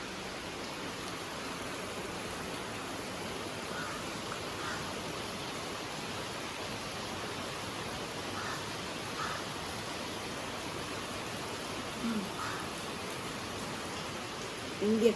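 Rain falls steadily as a soft, even hiss throughout at low level, broken only by a few faint bumps, with no talking.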